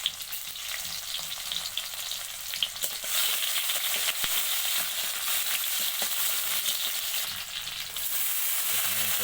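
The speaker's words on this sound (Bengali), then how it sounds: "এরপর দিয়ে দিলাম এখানে কালো জিরা, পেঁয়াজ কাটাগুলো দিয়ে দিচ্ছি।" Chopped onions and nigella seeds fry in hot oil, a loud, dense, continuous sizzle with a few light stirring scrapes, and it grows louder partway through.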